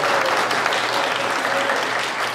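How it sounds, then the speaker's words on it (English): Concert audience applause fills the hall, steady and dense throughout with no voices over it. "Another round of applause, please."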